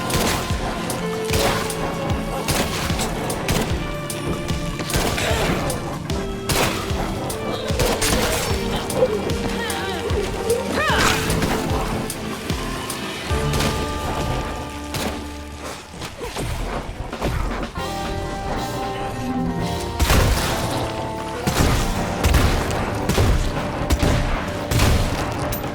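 Shotgun blasts in State of Decay 2, several booming shots scattered through dense game sound and music, with a voice talking over much of it.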